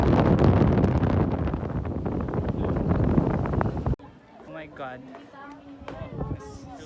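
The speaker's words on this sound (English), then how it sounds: "The wind is so strong" Strong wind buffets a microphone outdoors at Waterton, Canada, as a loud continuous roar that cuts off abruptly partway through, after which a person talks quietly over a calm background.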